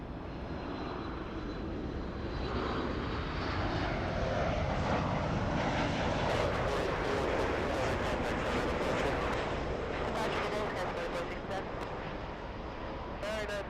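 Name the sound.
airliner engines landing at Los Angeles airport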